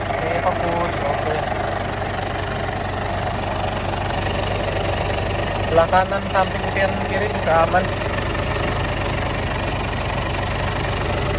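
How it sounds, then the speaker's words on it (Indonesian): A 2008 Ford Everest with a 2.5 Duratorq TDCi turbo diesel idles steadily with a low, even rumble and faint ticking throughout, while someone speaks nearby over it. "Mesinnya halus suaranya ya, suaranya halus"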